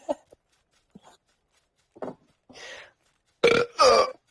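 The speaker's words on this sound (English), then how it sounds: "I don't know why coffee gives me these burps." Several burps after drinking coffee, a couple of faint short ones early on, then two loud, long, throaty belches close together at the end, each standing alone.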